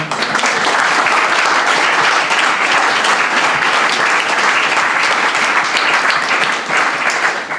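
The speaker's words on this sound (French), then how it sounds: "On peut l'applaudir, Adrien." Loud, dense audience applause fills a lecture hall at a sleep and sport science talk, continuous, close clapping sustained throughout with no letup.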